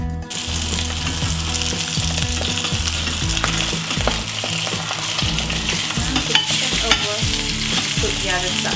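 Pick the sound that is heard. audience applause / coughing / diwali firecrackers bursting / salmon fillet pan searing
salmon fillet pan searing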